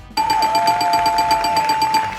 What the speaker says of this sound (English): Let me press the buzzer now